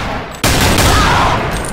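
Gunfire in the Garry's Mod game on a chaotic server, a sudden loud burst of rapid overlapping shots erupting after a brief lull and sustaining as a dense fusillade.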